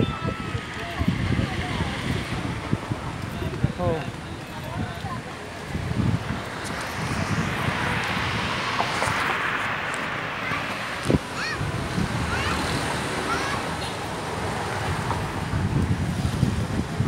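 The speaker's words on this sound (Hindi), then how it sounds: "थोड़ी बहुत हवा चल रही है क्योंकि बीच है तो हवा तो हमेशा रहती है" Wind sweeps across the beach at Marine Drive, a constant roaring rush that buffets the microphone, with a broad wash like surf rising and falling beneath it throughout.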